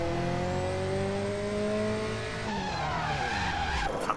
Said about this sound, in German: Okay, 20 Meter driften.